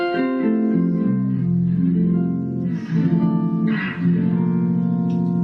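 Electric guitar through a pitch-shifting pedal set to add a fourth above and a fifth below, giving thick, organ-like stacked chords that move slowly and sustain, with a couple of brief string scrapes between.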